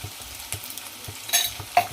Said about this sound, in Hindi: अच्छे से कर लेंगे फ्राई 2 मिनट तक। साथ ही डाल लेंगे नमक टेस्ट के अकॉर्डिंग और थोड़ी सी हल्दी।